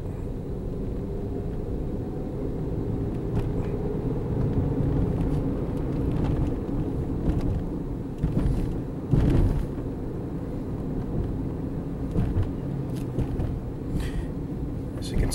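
A car with a bouncing left front wheel drives along the road, its engine and tyre roar rumbling steadily throughout with occasional knocks and bumps, with no voices.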